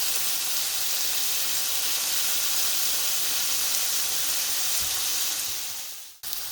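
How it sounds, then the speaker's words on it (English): Okra (bhindi) sautéing in a hot pan gives a steady, loud, close sizzle with constant hiss and no talking, ending with a brief thump. "So the bhindi is sauteed for a couple of minutes."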